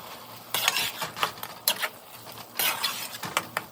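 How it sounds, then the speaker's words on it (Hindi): Keema seasoned with chilli garlic sauce is stirred in a pan, a spoon scraping and clinking in uneven bursts over a faint sizzle, close and moderately loud, with no talk. "अच्छे से हम इसे मिक्स करेंगे।"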